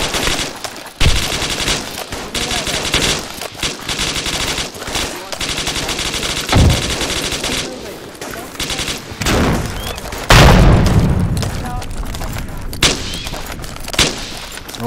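Rapid bursts of AK rifle fire in the Mogilevka Deluxe video game, loud and close, with repeated volleys and a few heavier booms across the stretch and brief talk mixed in.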